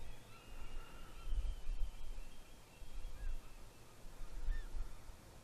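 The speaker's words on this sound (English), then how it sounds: "Lots of birds." Birds call faintly and intermittently near a foggy coastal estuary in British Columbia, distant honking cries over a low, rumbling background.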